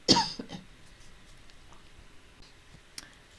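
A single sharp, loud cough bursts out right at the start indoors during a cross-stitch session, then fades into faint scattered clicks and quiet room tone.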